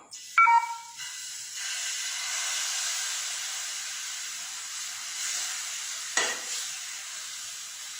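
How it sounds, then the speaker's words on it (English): A spoonful of breakfast batter hits a hot pan and sizzles in a steady, close hiss, with a soft clink at the start and another light knock near the end. "Put the mixture 1 spoon on the pan."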